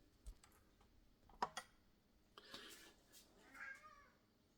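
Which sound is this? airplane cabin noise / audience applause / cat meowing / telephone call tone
cat meowing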